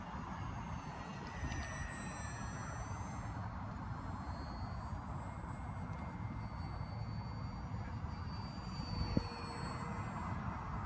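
FMS A6M3 Zero 750mm electric RC model airplane on a 3S battery, flying overhead with a steady, faint motor whine over broad outdoor wind and ambient noise, with no talk.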